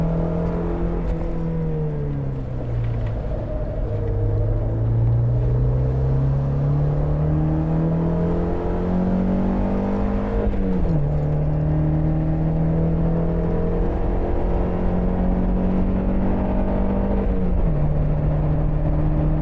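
A Mazda Miata engine pulls hard in second gear on Alastaro Circuit in Finland, its loud, steady drone rising in pitch, dipping at shifts near three and eleven seconds, and climbing again through the full stretch with no talk.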